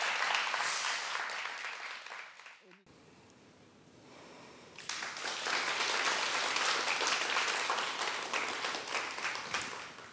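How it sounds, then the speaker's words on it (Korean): Audience applause at a Korean pansori performance of Chunhyangga, dense clapping that fades to a brief lull and then swells again into sustained, loud applause. "여러분들 은지 씨 공연할 때 자주 와서 이렇게 추임새 해주시고 박수 쳐주면 그게 가장 중요한 응원이 될 겁니다"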